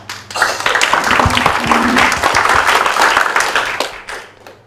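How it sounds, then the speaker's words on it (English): Workshop participants burst into sustained applause, dense clapping from a group in a room that swells quickly, holds steady for several seconds, then tapers off. "do you clap for yourselves here?"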